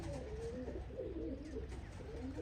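A racing pigeon coos softly with low, rolling calls repeated a few times, fairly close against a quiet background.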